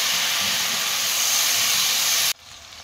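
Spice paste sizzling and hissing steadily in a hot pan for a vegetarian young jackfruit curry, a loud continuous crackle that cuts off abruptly near the end, no talking.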